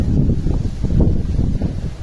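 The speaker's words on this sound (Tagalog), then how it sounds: "naririnig nyo ang lakas ng hangin guys, diba?" Strong wind buffets the microphone, producing a constant low roar and rumbling gusts with no other clear sounds.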